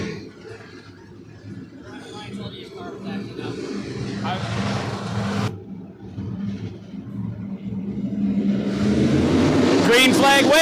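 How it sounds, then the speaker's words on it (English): Ten dirt-track race cars at Deadhorse Creek Speedway idle and roll around before the green flag, a continuous mid-pitched engine drone that builds steadily louder, with revving rising toward the end under a commentator's voice. "So we have 10 cars on the track ready to take the green."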